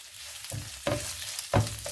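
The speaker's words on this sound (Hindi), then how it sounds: "सभी चीज़ों को 1 मिनट के लिए हम अच्छे से भून लेंगे।" Dried red chillies and sliced onion sizzle in hot oil for masala dosa stuffing, with a steady frying hiss broken by a few sharp scraping stirs of a spoon in the pan.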